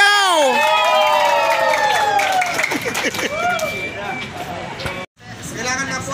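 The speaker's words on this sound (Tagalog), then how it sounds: "Na may sigaw! Hiyaw!" A crowd at a newly opened S&R store in Bacoor shouts, whoops and cheers loudly with scattered clapping, close and energetic, while a voice urges them on, then briefly drops out before the noise resumes.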